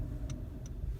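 The turn indicator of a Motability adapted car ticks three times at a steady, quick rhythm, each tick crisp and close over the low rumble of the engine and cabin.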